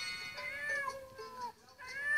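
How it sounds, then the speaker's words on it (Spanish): A cat lets out a drawn-out, wavering meow followed by a second shorter one, fairly close and clear with no talking over it. "Un gatito."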